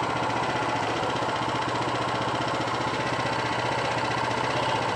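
A serviced Honda GX390 engine idles steadily and close by, a continuous mid-pitched running drone with fine rhythmic firing pulses and vibration throughout, no voices.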